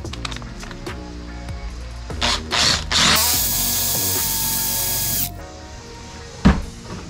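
A power drill fitted with a 17/64 bit bores into billet aluminum, with short revving bursts before a steady whine of about two seconds, then a sharp clunk, all close and with no talking.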